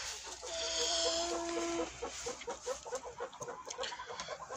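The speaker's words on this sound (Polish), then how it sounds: "Tutaj mamy kurki, wszystkie już siedzą." Hens clucking close by in a coop, with one sustained tonal call followed by a rapid run of short, irregular clucks.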